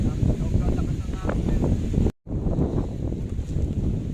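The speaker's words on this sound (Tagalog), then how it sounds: "Sobrang lakas ng hangin, no?" Strong wind roars against the microphone in heavy, steady rumbling gusts, briefly cutting out midway before resuming.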